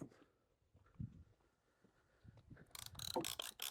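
A strap is ratcheted tight around a bundle of lumber, including 1x4 boards, on a hot August day. Faint handling knocks give way to a loud, rapid burst of ratcheting clicks near the end.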